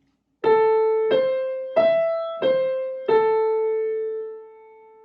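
Piano playing a single sustained A above middle C, struck five times in an even, unhurried rhythm, each strike ringing clearly with a bright harmonic tone before the final note decays; no voices.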